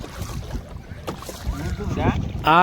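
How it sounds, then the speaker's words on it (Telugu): A boat travels across the Srisailam reservoir, giving a steady rumble of motor and water wash with wind buffeting the microphone. The sound swells louder toward the end, and voices can be heard faintly in the background. "మేము బోట్లో వెళ్ళడం శ్రీశైలం వాటర్లో పోయినావా"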